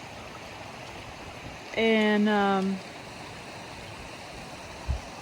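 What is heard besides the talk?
river flowing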